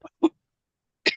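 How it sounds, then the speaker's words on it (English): Two short coughs come in quick succession, then a third harsher cough or throat clearing follows after a pause, sharp and close against silence. "Today's session is going to be hard with this cough"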